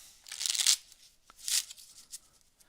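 Two crisp riffling bursts of playing cards being shuffled, close and fairly loud, separated by a short pause with a faint tap.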